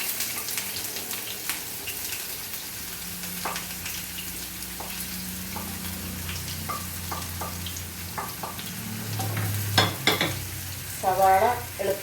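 Onion dropped into hot coconut oil in a pan, a soft steady sizzle with occasional stirring scrapes and clinks, growing louder near the end.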